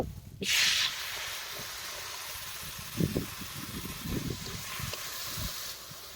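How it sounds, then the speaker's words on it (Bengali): A sharp burst of sizzling hiss erupts as a little water hits spices frying in mutton fat, then settles into a steady frying crackle with faint stirring scrapes in a home kitchen. "স্বাদ অনুসারে লবণ হালকা পরিমাণ জল দিয়ে মশলাগুলোকে ভালো করে কষিয়ে নেব"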